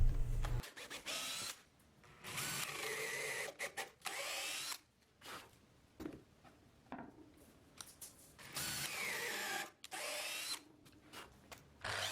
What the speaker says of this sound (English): drill out the holes for a larger dowel